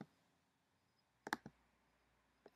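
Several faint, crisp computer mouse clicks, a close pair then a single one, set against quiet room tone while images in a WordPress gallery are selected.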